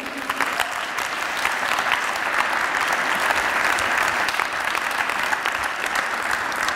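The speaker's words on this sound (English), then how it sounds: "And please give a very nice and strong and powerful applause to Nina and Timur." A lecture audience gives dancers a long, steady round of applause, many hands clapping densely and evenly throughout, full and moderately loud with no voices over it.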